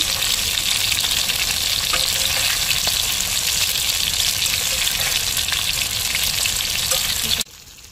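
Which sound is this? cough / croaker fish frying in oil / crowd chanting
croaker fish frying in oil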